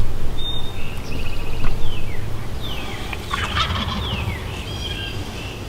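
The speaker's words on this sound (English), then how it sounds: "Oh, that's two gobblers." Two wild turkey gobblers in the Kentucky woods during turkey season, letting out several loud, rattling gobbles in separate bursts that overlap and answer each other over faint outdoor ambience.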